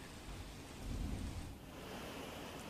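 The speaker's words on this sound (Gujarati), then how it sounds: "અહીં સમગ્ર શહેરમાં ધીમીધારે વરસાદ વરસ્યો" Light rain falls over Vadodara city as a short, faint, even hiss of steady rainfall, swelling slightly for a moment.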